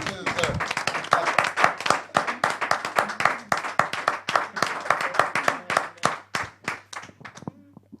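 A church congregation applauding for Jesus, a dense wave of rhythmic clapping with some cheering from a crowd indoors, steady and fairly loud before fading out near the end.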